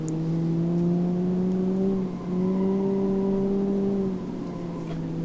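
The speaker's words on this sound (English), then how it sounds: "this thing is a really good front wheel drive car with these race tires on it" A front-wheel-drive car on race tires in BeamNG.drive holds a steady engine drone, with a brief dip as it shifts or lifts before the tone resumes at a slightly different pitch; near and continuous, no talking.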